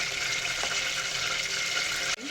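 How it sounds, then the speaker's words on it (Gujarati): Mustard seeds sizzle and fry steadily in about three spoonfuls of hot oil for a raw mango curry, a continuous close crackle and hiss that ends with a brief clatter. "રાઈ થોડી વધારે નાખવાની છે અડધી ચમચી નાખી બીજી થોડી એડ કરીશું"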